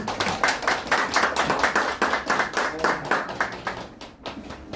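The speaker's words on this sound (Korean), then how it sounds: "박수 쳐주세요." An audience at an academy opening ceremony claps together in a lively, fairly rhythmic burst of many hands, close and loud, tapering slightly near the end with no talking over it.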